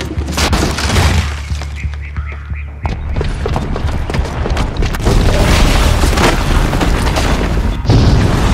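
A booby-trapped bomb goes off in the video game Horizon Zero Dawn, producing a heavy boom that rolls into a long, loud wash of crashing, shattering debris and rumble lasting several seconds.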